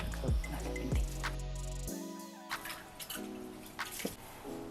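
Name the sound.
water poured into millet flour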